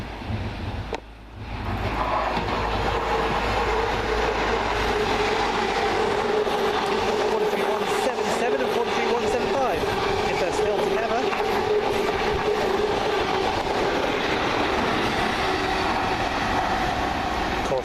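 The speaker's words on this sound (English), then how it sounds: "And there comes our train to take us to Bristol Parkway" A First Great Western passenger train pulls into a station with a loud, continuous rumble and rattling wheel noise that builds and holds, while people talk nearby.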